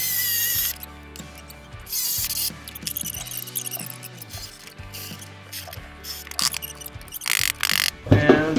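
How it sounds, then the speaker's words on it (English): A drill bores into the center hole of a shaker-style upper cabinet door for a Sprinter van, making loud, close whirring bursts that start and stop repeatedly with brief pauses between them. "just go ahead and start drilling"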